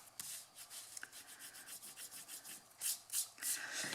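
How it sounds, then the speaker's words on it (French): A pencil eraser rubs out guide lines on a card box in quick, fairly quiet back-and-forth strokes, close up with no talking. "Je vais gommer mes lignes de repère que j'ai faites tout à l'heure"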